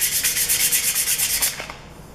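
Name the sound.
sanding soft jaws with sandpaper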